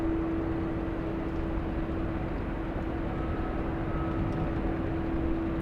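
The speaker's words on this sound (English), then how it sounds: "Air Canada 554 flying in from Vancouver" A distant Air Canada airliner arriving from Vancouver on approach to land at LAX gives a steady, broad low rumble with a faint sustained tone, continuous and unchanging, with no voices.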